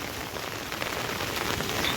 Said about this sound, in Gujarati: ફૂલ વરસાદ.